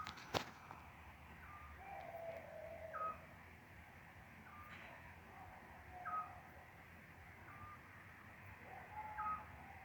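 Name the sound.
scops owl singing at night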